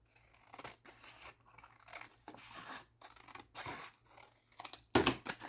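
Scissors trim paper for a junk journal, a series of close, crisp snipping and crinkling cuts in irregular bursts, quiet overall with one louder cut near the end.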